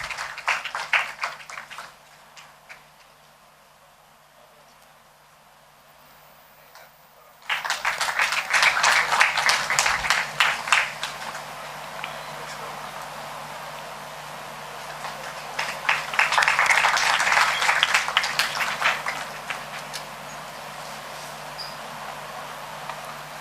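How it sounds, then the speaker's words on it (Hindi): Audience applause at a Hindi literary festival event honouring guests on stage, a dense patter of clapping that starts abruptly after a quiet stretch, holds steady, and swells louder again near the end, with no talk over it. "आप सभी तालियों के साथ उनका स्वागत कीजिए।"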